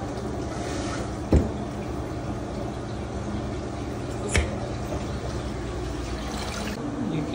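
A toilet tank refills with water after a new flapper is fitted, making a steady, close rushing hiss throughout with two brief knocks, and no talking.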